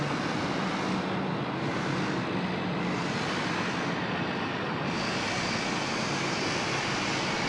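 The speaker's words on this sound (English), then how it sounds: "the 747, no delay for taking off, so it's time to roll down there" A Boeing 747 rumbles at Sydney Airport as it rolls for takeoff, a steady, loud broadband engine roar with no break, heard at night.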